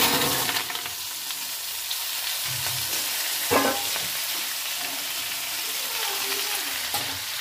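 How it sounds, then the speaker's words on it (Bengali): Green chillies and chopped katoa data greens hit a hot pan after prawns have been fried, giving a steady close sizzle with occasional stirring clatter and spoon scrapes, no voices. "তার ভিতরে দিয়ে দিচ্ছি কাঁচা লঙ্কা, দিয়ে দিচ্ছি কেটে রাখা শাক"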